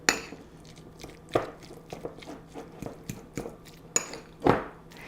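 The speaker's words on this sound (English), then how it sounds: "So I'm going to mix this together." A spoon stirring and clinking in a bowl while mixing Mediterranean tuna salad with lemon, irregular scraping taps and a few sharper clinks, close up and moderately quiet.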